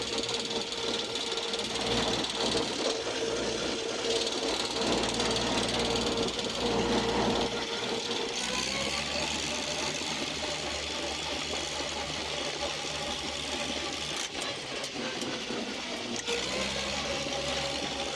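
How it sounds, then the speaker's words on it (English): An Oliver Super 77 tractor running on the road, its old engine droning loud and steady with a thin whine from worn spur gears riding over the rumble, heard close and continuous. "hear those old spur gears whine. That's an Oliver."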